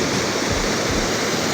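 Fast glacier meltwater stream in the Chilas Valley, Pakistan, rushing down as a steady, loud, close-up roar of churning water with no voices.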